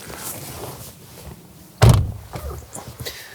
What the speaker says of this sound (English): Let's pull back the frameless door and take a look inside.